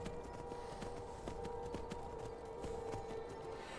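Horse hooves in the video game Skyrim, a quiet steady clip-clop trotting rhythm under a faint tonal hum, with no talking.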